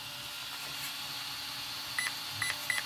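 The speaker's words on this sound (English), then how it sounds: "Now we can hear that it goes beep beep." A Radiolink electronic speed controller in setup mode emits short, high electronic beeps, three brief chirps near the end over a steady background hum.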